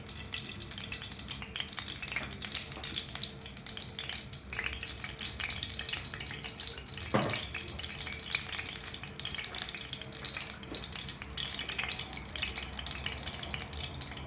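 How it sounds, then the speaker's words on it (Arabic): Oil sizzles steadily in a pan as chicken fries, a continuous close hiss with faint crackles and occasional stirring clicks, no talk. "ها هو الزيت، غادي ندير الزيت كميه اللي نجي نقلي بها نحمر بها الدجاج"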